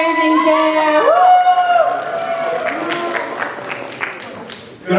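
Audience applause and cheering at a fundraising raffle during a community festival: a burst of clapping with crowd noise under the talk, tapering off, with whoops and claps near the end.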